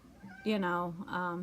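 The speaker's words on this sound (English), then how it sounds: "If you hear noise, that's my cat outside." A cat lets out a couple of drawn-out, wavering meows, fairly close and clear, rising and falling in pitch.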